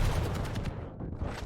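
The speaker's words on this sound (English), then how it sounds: "Pasita gets that frag by rocket launcher" Rocket launcher fire in a competitive Team Fortress-style match, a dense burst of blasts and gunfire crowding the opening second before thinning into lower rumbling game noise.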